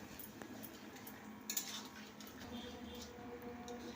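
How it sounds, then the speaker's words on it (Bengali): Spinach is stirred in a pan with a spatula (khunti), giving quiet metallic scraping and light clinks over a low, faint background, with one brief louder knock midway. "একটু খুন্তি দিয়ে নাড়াচাড়া করে দিয়ে"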